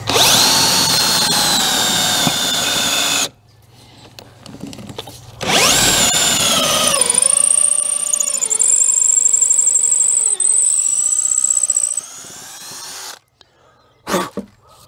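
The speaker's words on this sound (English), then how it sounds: "I'm going to drill straight down." Power drill boring 10 mm holes straight down into a wooden block for a bee hotel, a loud whining run that stops, restarts with rising pitch and holds steady for several seconds before cutting off, then a brief knock.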